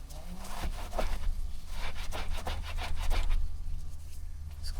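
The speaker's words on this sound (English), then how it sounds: "take some steel wool and clean this rust off" Steel wool scrubbing rust off a car's rear hatch strut clip on an LT SS, a rhythmic rasping rub in quick back-and-forth strokes over a low steady hum, fairly close.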